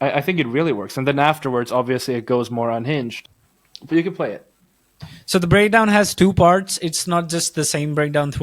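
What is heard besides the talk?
No everyday noises stand out.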